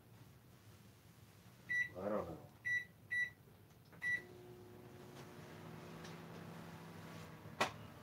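A microwave oven chirps out a few short beeps, then settles into a quiet, steady running hum. Everything is faint, and someone murmurs briefly.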